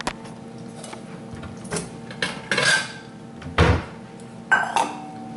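Metal spoon clinks and scrapes against a pot while buttercrunch candy mixture is stirred, giving a few scattered knocks and clatters over a quiet kitchen background.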